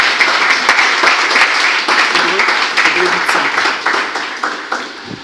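Church congregation applauding and acclaiming the Lord during a French-language teaching, with loud, steady clapping mixed with shouting voices that gradually thins toward the end.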